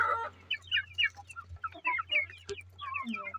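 Chickens cluck near a nest in a farmyard, giving a busy stream of short, close clucks and chatter with a faint low hum underneath and one sharp click partway through.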